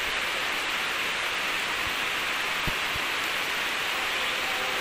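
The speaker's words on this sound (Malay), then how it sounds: "Hari hujan." Rain pours steadily outdoors, a dense, even hiss of falling water that stays loud and unbroken, with a couple of faint low knocks underneath.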